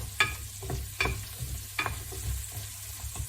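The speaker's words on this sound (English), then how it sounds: "I'm going to add a bit of more seasoning and salt so it's tasty as well. Give that a stir." Seasoned chopped sweet potatoes stirred in a frying pan, three or four sharp scraping strokes at a steady pace over a soft, close sizzle.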